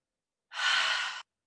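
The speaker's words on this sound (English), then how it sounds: "take a few rounds of nice, even breath" A single slow, even breath during a yoga slow-flow session, one smooth airy exhale lasting under a second, close and clear against silence.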